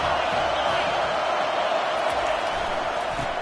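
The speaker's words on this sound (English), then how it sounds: "the crowd coming to life here, trying to help this defense down in the red zone" Stadium crowd roaring in the NCAA 25 college football video game, a broad, steady wash of cheering at full volume throughout.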